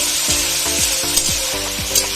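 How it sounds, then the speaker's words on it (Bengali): Chopped tomatoes sizzle steadily in a hot pan while a spoon stirs them in a regular rhythm, scraping roughly twice per second, close and loud. "এখন এইভাবেই নেড়ে চেড়ে এই টমেটোটাকে ভালো করে ভেজে নিতে হবে।"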